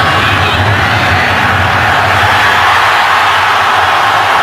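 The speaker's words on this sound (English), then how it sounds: "he gets a huge cheer from the Green Bay 38 officially for Crosby" A loud, sustained roar from a Green Bay football stadium crowd cheering after a made field goal, a dense wash of whoops and yells with no break.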